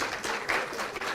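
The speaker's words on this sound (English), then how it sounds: "Let's have a round of applause for him." An audience at a yoga leadership event gives a brief burst of steady, dense applause, close and moderately loud throughout.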